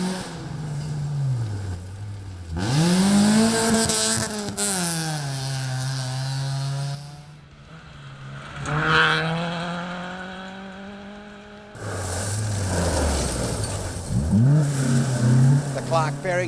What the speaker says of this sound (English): The Clubman cars away first, the conditions dry and dusty.